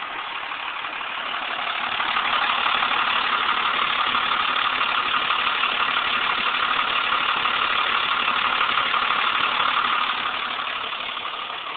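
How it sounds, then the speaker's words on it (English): A 1992 Dodge pickup's 12-valve Cummins diesel, converted to burn vegetable and waste oil, idles at a steady, even rumble. It runs alone with no voices over it, holding constant for about 12 seconds. "that's my 92 Dodge 12 valve Cummins converted to run on vegi oil"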